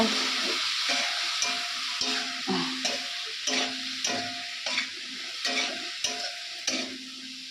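Spices frying in a pan, a loud continuous sizzle with rhythmic stirring scrapes about once a second, close up and with no voices.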